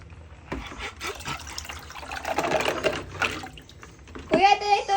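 Water trickles and splashes into a container for a bath, a running, uneven pour that grows louder toward the end, with a voice and other speech heard over it.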